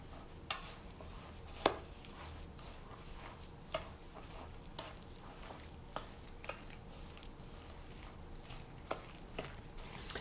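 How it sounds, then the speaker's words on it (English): A spoon stirs a ricotta, egg and yolk filling for Italian puff pastry, giving soft scraping with light irregular taps against the bowl at a quiet, close level. "And we just mix it all together and stir it up."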